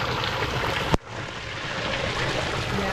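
Hot spring waterfall in Papallacta pouring steadily, a dense, close, broadband rush of falling water interrupted by one brief sharp knock just before the one-second mark.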